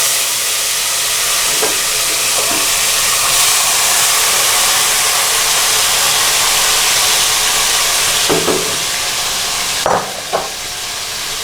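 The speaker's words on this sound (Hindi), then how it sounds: "अब हमारा चिकन हाफ आवर जो मैरिनेट हुआ है वो हम इसमें ऐड करेंगे इसी ऑयल में" Marinated chicken going into hot oil for an Omani-style chicken dish, a loud continuous hiss and sizzle close by, with a few clanks of the pan and utensil near the end.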